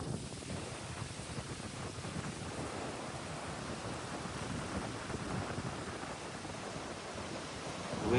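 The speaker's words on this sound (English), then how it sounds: "So she's pretty windy out here today." Strong wind buffets and roars steadily across the microphone on the coast at Port Resolution, Tanna, Vanuatu, a dense rushing noise with faint surf-like undertones and no talking.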